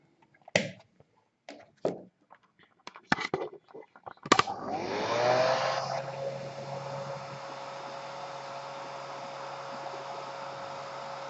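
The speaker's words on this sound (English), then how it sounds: "now I'm going to use a hairdryer to bump up the temperature and simulate it real" A few sharp clicks and taps come first, then a hairdryer switches on and blows steadily, loud and close, warming a temperature sensor with a constant whirring rush to the end.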